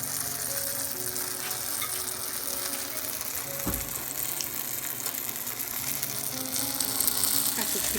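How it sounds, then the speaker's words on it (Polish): Steady sizzling and crackling of buttermilk pancake batter with blueberries frying in a pan, close and continuous, with faint clicks and a brief clatter partway through. "A no i smażymy."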